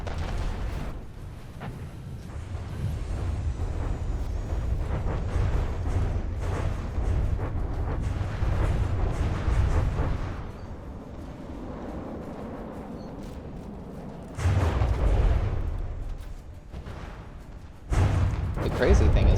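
Heavy, rumbling blasts as missiles strike an armored vehicle, dense low booms rolling on, with sharp fresh explosions near 14 and 18 seconds; a voice talks underneath throughout.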